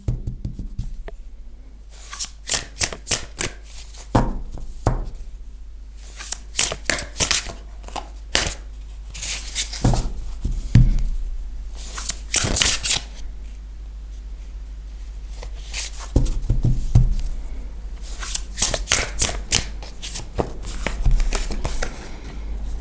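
Tarot cards being shuffled for a reading, giving repeated bursts of crisp riffling and slapping, close and fairly loud, separated by short pauses, with no talk over them.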